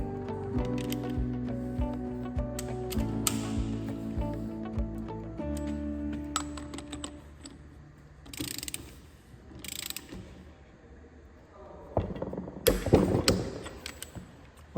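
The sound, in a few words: ratchet wrench torquing bolts on Bornemann SLH-5G pump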